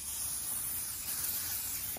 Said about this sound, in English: Now we're gonna put some oil on our pan.